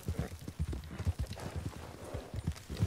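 Horse hooves clip-clop in Red Dead Redemption 2, a quick, even run of soft thuds at a brisk gait, fairly quiet and steady with no talk.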